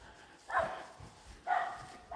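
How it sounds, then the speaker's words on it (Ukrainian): Two short dog barks, about a second apart, at a moderate distance against a quiet outdoor background. "Видно, що тут хтось живе, бо собака загавкав."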